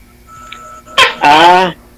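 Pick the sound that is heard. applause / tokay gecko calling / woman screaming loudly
tokay gecko calling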